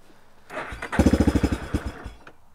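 Yamaha Warrior 350 ATV engine cranking over with rapid, rhythmic chugging pulses from the starter, a short burst that sputters without catching, as if flooded, heard close and fairly loud.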